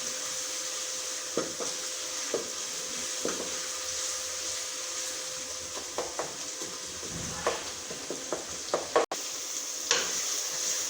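Garlic paste and a tablespoon of ginger paste sizzle steadily in a pan for a daal tarka, with intermittent scraping taps from stirring and a continuous hiss throughout.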